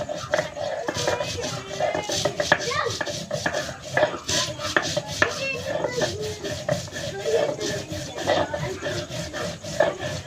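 Garlic, spices and salt ground by hand in a village kitchen, a steady rasping, scraping rhythm of stone on stone with clinking knocks throughout, close and moderately loud.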